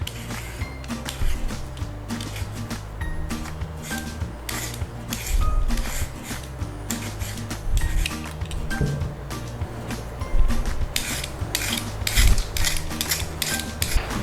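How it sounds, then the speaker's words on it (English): Potatoes being peeled by hand in a home kitchen for mashed potatoes, with steady repeated scraping strokes and small clinks of utensils, close and fairly quiet, no talking. "we got to peel all the potatoes"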